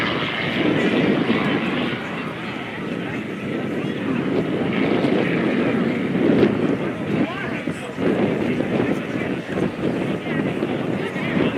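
A loud, continuous aerobatic propeller-plane engine drone at the 2024 Leesburg Airshow as the plane tumbles end over end, a throaty, fluctuating roar mixed with wind rush and a voice talking over it.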